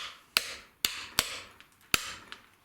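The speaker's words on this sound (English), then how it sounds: "a little bit of swing on the hammer again like before, and we're going to tap it down" Hammer strikes on a steel chisel cutting numbers into stone, five or six sharp, close metallic taps at irregular intervals, each ringing briefly before fading, with no talking.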